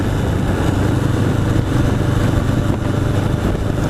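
A 1981 Honda CB750 Custom motorcycle with newly sorted carburetors runs close and loud, a dense, steady engine drone with no clear revs or pauses and no talking.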